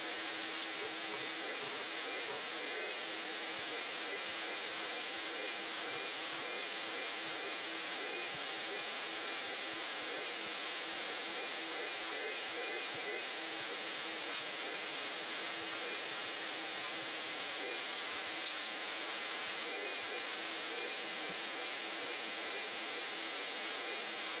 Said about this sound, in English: I'm gonna take this time to go ahead and vacuum out the trunk